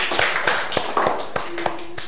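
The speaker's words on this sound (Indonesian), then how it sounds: "Tepuk tangannya." A classroom group claps hands together in a loose, sparse rhythm, a handful of distinct sharp claps spread across two seconds over faint room noise, during an ice-breaking exercise in an Islamic education history lecture.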